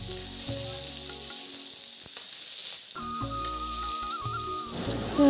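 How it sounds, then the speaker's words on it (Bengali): Food fries in a pan with a steady close sizzle that thins briefly in the middle before the hissing crackle swells again, fairly loud and without talking. "এয়া ভাজি ল'ব সি"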